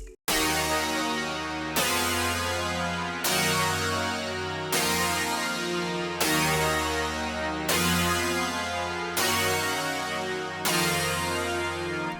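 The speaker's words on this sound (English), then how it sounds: "It's the wide metal attack, and it sounds like this." Wide metal attack polysynth chords from the Expand plugin, eight bright metallic stabs in a slow, steady loop of the same four minor chords, each decaying under a sustained low drone, loud and alone.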